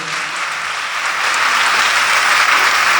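Congregation at a Sunday Mass at St. Anthony's Parish claps loudly, a thick continuous wash of applause that grows slightly stronger partway through and stays close and full.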